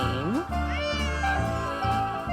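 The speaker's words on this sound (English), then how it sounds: "Otherwise, he'll just keep meowing." A cat in the Nancy Drew game Secret of the Old Clock meows in a long, loud, drawn-out cry with rising and falling pitch, close and alone over a steady game music backdrop.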